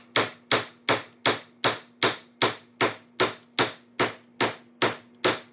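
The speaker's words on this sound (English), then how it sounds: "I'm just going to hammer this over to the left and get some more clearance." Fourteen evenly spaced hammer blows strike a metal seat mount on a shifter kart, each a sharp ringing clang with a faint steady hum underneath, no voices present.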